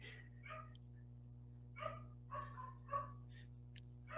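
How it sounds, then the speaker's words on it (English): A pet corgi barks in the background in several short, faint bursts, distant and muffled over a steady electrical hum, with no talk over it. "Do you guys hear my dog barking in the background"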